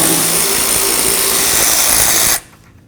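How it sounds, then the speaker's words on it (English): A power tool backs out the wiper motor mounting bolts on a 2002-2008 Dodge RAM 1500. It gives a loud, steady, close whir for a little over two seconds, then stops abruptly and leaves a quiet background. "Now we're going to remove our 3 mounting bolts."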